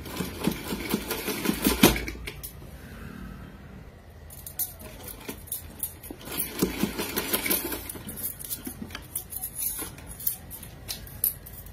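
Sewing machine running in bursts as it stitches a small cloth outfit for a deity idol, a steady rapid whirring clatter that starts and stops, close and alone with no talk.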